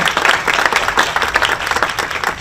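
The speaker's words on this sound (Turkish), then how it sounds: "Şöyle kocaman alkışlarınızla, duygularınızla onlara bu enerjinizi katın." A brief burst of dense audience applause for a newly engaged couple, loud and close, with continuous clapping from many hands throughout.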